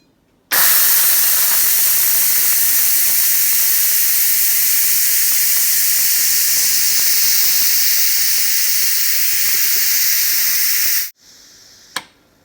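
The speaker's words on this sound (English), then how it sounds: "we are going to hit the steam button, and the steam will start to release" A Deluxe multi cooker vents steam through its top valve in one loud, sustained hiss that starts abruptly, holds for about ten seconds, then cuts off, followed by a faint click.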